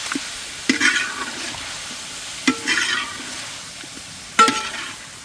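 Chicken being sautéed in a pan with ginger-garlic paste, with three distinct stirring scrapes of a utensil over a soft, steady sizzle, close and fairly loud.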